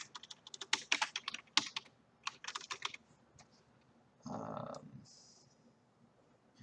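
A note is typed on a computer keyboard in a quiet room: rapid clusters of light, close key clicks with brief pauses, then a short, softer shuffling noise.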